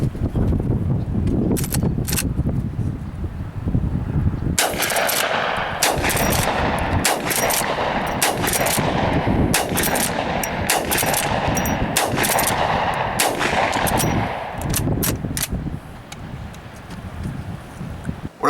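Heavy .44 Magnum rounds from a Henry Big Boy lever-action rifle boom out in a rapid string of loud, sharp shots, each with a short decay, over steady wind buffeting the microphone outdoors.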